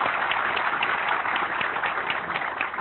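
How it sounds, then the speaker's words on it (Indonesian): An audience claps in a seminar hall, a dense, continuous wash of applause holding steady at close range without any speech on top. "tepuk tangan untuk Pak Louis."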